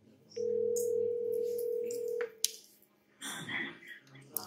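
A Grandstream desk phone sounds a single steady incoming-call tone for about two seconds, close and clear in a quiet room, followed by brief rustling and faint speech.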